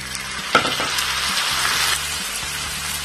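Chopped tomatoes drop into a pan of onions and bitter gourd frying for a chana dal curry, giving a steady close sizzle with a sharp splash near the start and light stirring scrapes, no voices.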